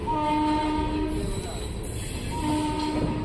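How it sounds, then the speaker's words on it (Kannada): The Chamundi Express, running Mysore to Bangalore, rumbles into Kengeri railway station with a continuous rolling clatter, its horn blaring two long blasts close by. "ನಮ್ಮ ರೈಲು ಈಗ ಕೆಂಗೇರಿ ರೈಲ್ವೆ ಸ್ಟೇಷನ್ಗೆ ಎಂಟ್ರಿ ಆಗ್ತಿದೆ."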